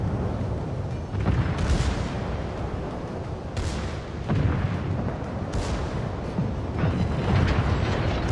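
Heavy secondary guns on the battleship Musashi in World of Warships fire in repeated booming volleys, loud and close, with rumbling naval cannon blasts recurring every second or two over a continuous din of battle.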